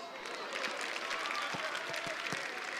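Applause from spectators at a Lyon football training session, a dense continuous clapping of a crowd, steady and moderately loud, heard from some distance.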